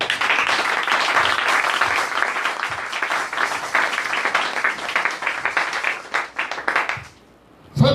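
Church congregation applauding the Lord during a worship service, sustained loud clapping from many hands for about seven seconds, then dropping away before a final burst.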